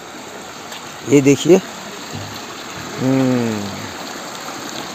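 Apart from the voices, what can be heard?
small river stream flowing in a recreation park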